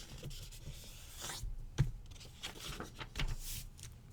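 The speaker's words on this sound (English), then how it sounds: "So let's just fold the page in half." A paper page folded in half in a calculus lesson, heard as a few soft rubbing and creasing swishes with one sharper crease snap, close by and fairly quiet with no talk.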